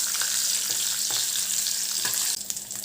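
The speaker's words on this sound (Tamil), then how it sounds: "நல்லா வதங்கட்டும்." Onions and ingredients for a dried fish thokku sautéing in a pan, a steady close sizzle and fry hiss with occasional soft stirring scrapes, no talk.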